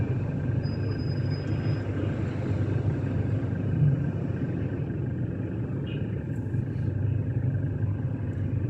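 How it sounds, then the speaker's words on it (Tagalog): Low rumbling road traffic heard from inside a car in Valenzuela City, a steady engine drone with a constant hum, continuous and fairly loud without talk. "Bakit traffic?"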